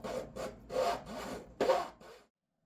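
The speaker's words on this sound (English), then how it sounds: "cut them off to length with a razor saw" Razor saw cutting glued plywood model parts for a Zippkits JAE 33FE SAW racing boat, heard as several close rasping back-and-forth strokes in quick bursts, then stopping.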